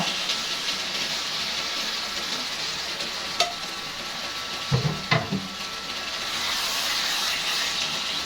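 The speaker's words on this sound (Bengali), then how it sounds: "ভাজা মাংসগুলো দিয়ে ভালোভাবে কষিয়ে নেব" Fried chicken pieces sizzling in spiced oil in a pan, a steady close hiss with a few brief knocks and scrapes of stirring midway, no voices.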